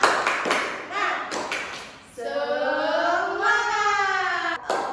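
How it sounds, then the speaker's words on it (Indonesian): A class does a rhythmic spirit clap in a string of sharp, evenly spaced claps, then voices break into a loud sustained group chant. "Kita tepuk semangat dulu, oke?"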